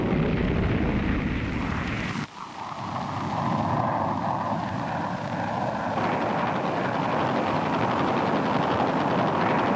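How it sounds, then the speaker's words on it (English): US air attacks around Khe Sanh by fighter bombers, with dense, loud, rumbling noise. A sharp blast cuts through about two seconds in, followed by a sustained aircraft drone and continuous roaring. "U.S. air attacks around the Khe Sanh base grew fiercer by the day"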